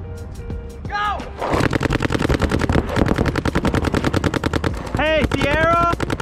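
Paintball markers fire in rapid, dense bursts during a speedball game on an NXL Mid Atlantic layout, a loud continuous crackle of shots with shouted calls from players over it.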